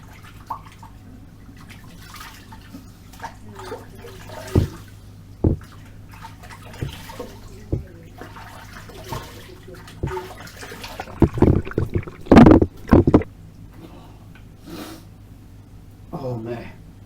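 Hot water is splashed onto the face before shaving with oil, a few close scattered splashes and drips, building to louder splashing near the end, with someone talking throughout.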